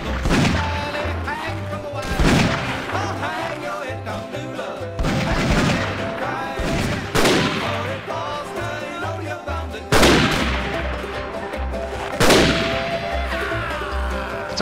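Rifle and cannon fire in an 1860s American war video game, with sharp, loud shots bursting every couple of seconds over a steady, rhythmic musical score and battle din.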